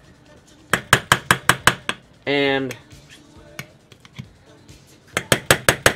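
Bacon grease is banged out of its container into a frying pan: two quick bursts of about six sharp, loud knocks each, separated by a short stretch of speech.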